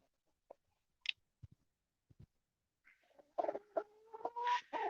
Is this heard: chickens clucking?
yes